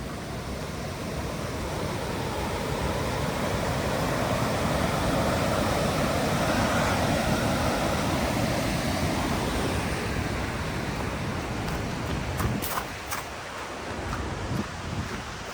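A river near Falls Creek in New Zealand rushes in a steady, broad roar heard close by, with wind buffeting the microphone and no talk.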